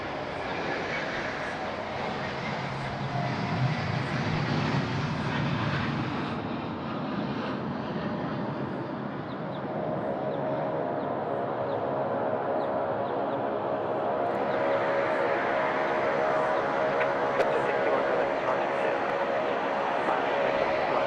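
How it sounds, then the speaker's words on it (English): A Saab turboprop airliner takes off on runway 34 left at Sydney Airport, a loud, steady engine roar that builds and holds with broadband rumble for the whole stretch, with people talking faintly underneath. "Tell you what, these Saabs are super loud."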